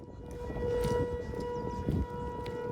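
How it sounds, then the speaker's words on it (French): Air raid sirens wail in Kyiv at a psychiatric hospital, a steady tonal howl heard from a distance over low background noise, with no voices. "Sous le son des sirènes"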